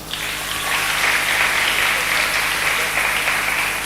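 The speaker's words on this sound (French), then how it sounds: "On acclame pour le Seigneur." Congregation applauding and cheering in praise of the Lord, a dense, steady burst of clapping with bright crowd noise, loud and close for the whole stretch.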